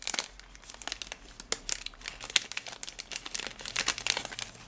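Botanical stickers being unwrapped from their packaging, with dense, close crinkling and crumpling of plastic and brief tearing bursts that keep up steadily throughout and are heard alone.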